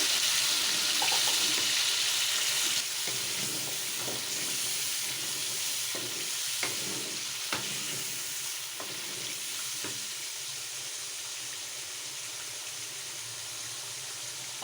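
A paste of onion, tomato, chilli, garlic and ginger sizzles and fries steadily in a pan, a continuous close hiss broken by occasional scraping stirs of a spoon, with no talking.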